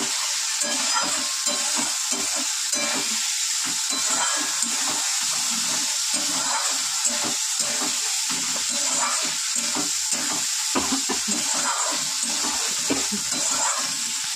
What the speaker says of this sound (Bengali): তো এবারে ভালো করে কষিয়ে নেব, সুন্দর করে কষিয়ে নেব।